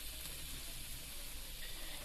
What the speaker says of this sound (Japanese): とりあえず炒めるって感じ